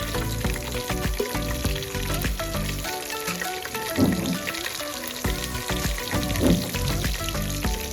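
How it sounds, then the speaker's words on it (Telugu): Whole spices (shahi jeera, cardamom, cloves and cinnamon) with green chillies sizzle in hot oil for Telangana-style bagara rice, a close, steady crackling hiss with occasional louder pops and no voices. "సాజీరా, ఇలాచి, లవంగా, చెక్క అంతా ఆయిల్ వేసుకొని కొద్దిసేపు ఫ్రై చేసుకోవాలి."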